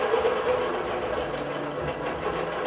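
Digital quilting machine stitching a quilt in a frame, a steady close mechanical whirr with a fast repetitive needle clatter running continuously without talk.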